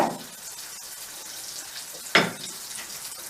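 An egg cracked into a hot pan sizzles steadily for a Korean street-food toast, with a brief sharper crackle partway through as the yolk is pressed and popped.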